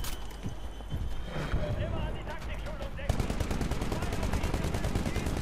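Rapid automatic gunfire in the Titanfall video game, with dense rattling bursts near and loud that run steadily through the second half, over battle noise and a voice talking.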